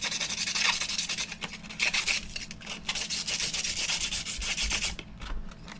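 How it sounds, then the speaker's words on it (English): A 3D printed RC car part is scuffed by hand with 120 grit sandpaper, a close, steady raspy rubbing with rhythmic back-and-forth strokes that continues for several seconds, then briefly eases off. "I've got some 120 grit sandpaper here. We're just kind of going to go over this and make some rough spots"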